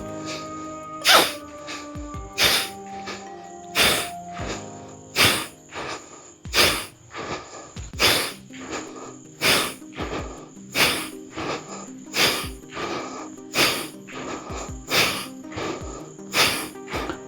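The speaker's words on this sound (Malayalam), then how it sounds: "ഞാനിവിടെ ആ ശ്വാസം എടുക്കുകയും വിടുകയും ചെയ്യുന്ന ശബ്ദം നിങ്ങൾക്ക് കേൾക്കാം" Forceful breathing during a gentle fitness routine for people over sixty: about a dozen sharp, evenly spaced exhalations with quieter inhalations between, close and loud against a faint background tone.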